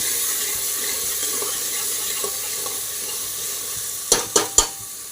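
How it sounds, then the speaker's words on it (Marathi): Tomatoes tipped into onions fried to a pinkish brown in a pan, giving a soft steady sizzle with light stirring, then three sharp metallic clinks close together near the end. "मग त्याच्यामध्ये आपण टोमॅटो घालायचे। थोडंसं 1 सेकंद फिरवून घ्यायचं ह्याला।"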